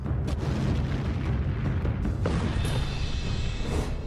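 Missile strike explosion in the Russia–Ukraine war, a loud, dense rumbling blast sustained throughout with no voices.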